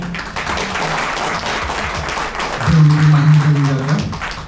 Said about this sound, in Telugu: నేను చెప్పకముందే చప్పట్లు కొట్టారు